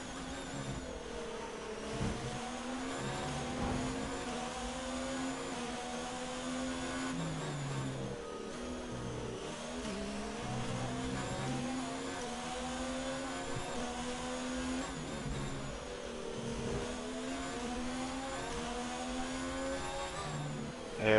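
A Formula 1 car in the F1 2019 racing game laps the Russian circuit on soft tyres, its high-pitched engine whine rising and falling through repeated gear changes, steady and continuous beneath faint background noise.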